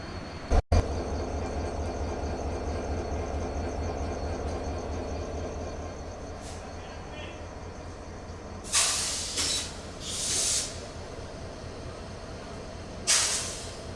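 The Kurigram Express stands at a station in Bangladesh with a steady low engine rumble and hum, then sharp bursts of air-brake hiss break in near the end.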